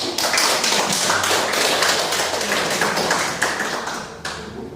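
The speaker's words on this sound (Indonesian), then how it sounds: "Kita beri aplaus dulu untuk kelompok 1." Students applaud a school group presentation in a classroom, a dense, even clapping that stays loud for several seconds and then begins to thin out.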